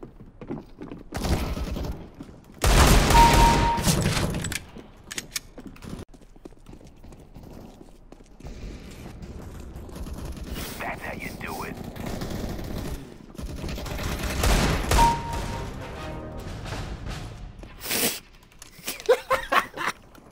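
Gunfire from a CS:GO match comes in several loud bursts, one sharp volley early on and more later, separated by quieter stretches of clattering footsteps and game noise.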